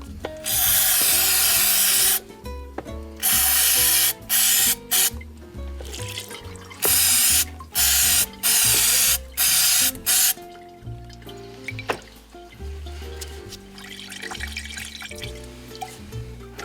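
Oil degreaser sprays in repeated loud bursts into a used oil filter can during a tune-up, each hiss separated by short pauses, with some rattling and dripping in between.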